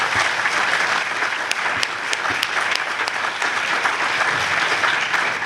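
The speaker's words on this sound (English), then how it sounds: "give them a round of applause" Audience applause at a Kansas Court of Appeals Constitution Day event: a dense, even wash of many hands clapping, steady and fairly loud for the whole stretch with no voices on top.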